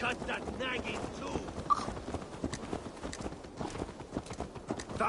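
Horse hooves clip-clop at a steady walking rhythm in Assassin's Creed Valhalla, with wind noise, and the clomping continues under character dialogue.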